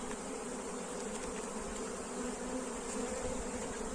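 A dense, steady swarm of honey bees buzzing around a hive during the rescue of a drone-laying colony, one continuous droning hum with no talk.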